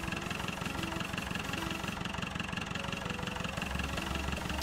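A tractor engine in the video game Farming Simulator 2009 idles with a steady low, rhythmic chugging throughout, unchanging and close.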